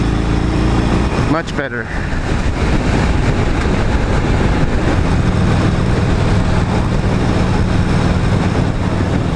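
Harley-Davidson Sportster 48 motorcycle engine running loud and close while riding at Bikes Blues and BBQ, a steady low throbbing roar with wind rush throughout, a brief shift near the start, and someone speaking briefly over it.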